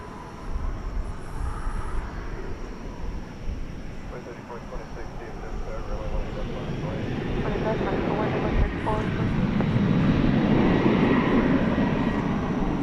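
American Airlines jet taking off at night from runway 18 left at Dallas Fort Worth airport, a steady broad engine roar that swells louder toward the end, with talking over it.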